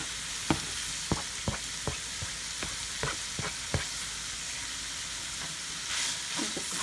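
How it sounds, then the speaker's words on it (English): Onion and two serrano peppers fry in a hot pan with a steady, dense sizzle, broken by several sharp clicks and knocks of a utensil against the pan, with no talking. "I'm going to go ahead and add in my onion and my 2 serranos."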